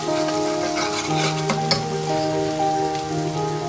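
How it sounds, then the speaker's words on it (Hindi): Garlic-ginger paste is stirred and fried in a pan for Pakistani chicken tikka masala, giving a loud, steady sizzle with scraping strokes of a spoon, close by and with no talk. "अब इसमें ऐड कर देंगे लहसुन अदरक का पेस्ट 1 टीस्पून। अच्छी तरह से मिक्स कर लेंगे। 1-2 मिनट फ्राई करेंगे इसको।"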